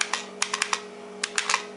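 Sharp clicking keystrokes on an original IBM PC 5150 clicky keyboard, about a dozen crisp close taps in irregular clusters over a low steady electrical hum.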